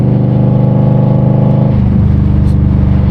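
An Indian Scout Bobber motorcycle is ridden, its engine droning loudly and steadily up close. The engine's pitch drops partway through, then holds a lower, pulsing tone.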